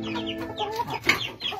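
Chickens clucking near the microphone, a few short overlapping calls and squawks from the flock.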